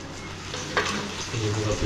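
Pomfret fish frying in oil, a dense close sizzle that swells and crackles louder toward the end, with a brief clatter of a utensil midway.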